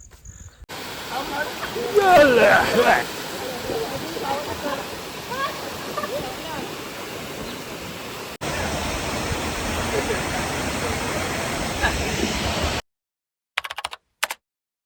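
Steady broadband roar of a waterfall near home, a swimming spot, loud and continuous with a brief shift partway and a few short bursts after it cuts out; voices are faintly present.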